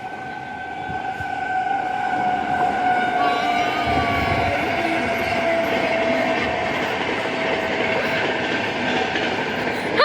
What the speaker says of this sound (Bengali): ট্রেন একটি এলো হাওড়া থেকে ফিরে আরেকটি এখন ভুবনেশ্বর থেকে ফিরে যাচ্ছে